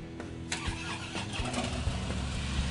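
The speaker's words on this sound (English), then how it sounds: "Bree's gonna fire it up for us" A 2013 Harley-Davidson FLS Softail Slim with its 103-cubic-inch V-twin cranks and fires, then settles into a loud, lumpy idle with uneven low thumps, close to the microphone and with no one talking.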